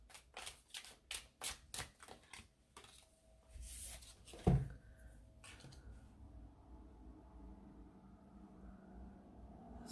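Tarot cards are shuffled in quick, rhythmic riffling bursts during a reading, followed by a single soft thump as a card is drawn and set down, then quiet room tone.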